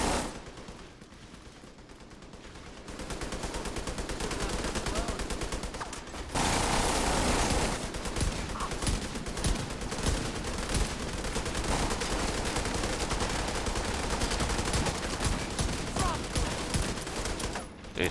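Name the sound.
Regulus exotic pistol gunshots in video game Division 2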